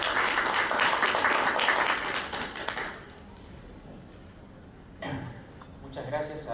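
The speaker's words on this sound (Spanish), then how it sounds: "Recibimos al doctor Dagger con un fuerte aplauso." An audience at a round-table event on reading comprehension applauds loudly for about three seconds; the clapping fades out and a voice begins speaking afterward.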